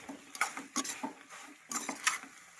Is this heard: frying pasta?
yes